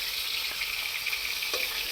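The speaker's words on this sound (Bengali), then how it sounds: "রাজা কড়াইতে মাছ দিচ্ছে এখন, হচ্ছে আমাদের মাছ ভাজা হচ্ছে।" Fish fry in a hot wok at a riverside picnic in the Sundarbans, a steady close sizzle with a few sharper crackles and pops.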